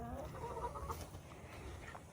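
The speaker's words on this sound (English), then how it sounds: "Chickens," Chickens cluck softly nearby in short, irregular bursts, with faint background noise.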